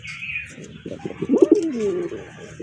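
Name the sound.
pigeon cooing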